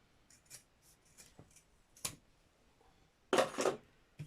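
Scissors trimming thick padded fabric for a laptop pouch: several soft, separate snips close up, followed by a louder, longer crunching cut near the end, with no talking.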